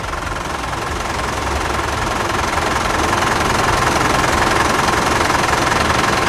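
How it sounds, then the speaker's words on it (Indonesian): A diesel engine runs at idle just after starting, a steady close knocking clatter with a dense rumbling vibration that holds constant throughout. "Nah, ini mesinnya udah gue nyalain."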